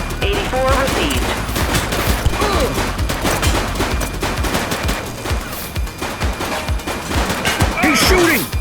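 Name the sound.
gunfire in the video game The Precinct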